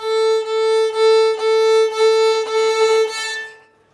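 A single bowed string holds one note with pulsing bow strokes, swelling louder and turning rough and scratchy as the bow nears the bridge before fading out.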